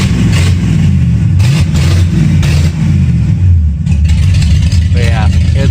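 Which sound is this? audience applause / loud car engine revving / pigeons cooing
loud car engine revving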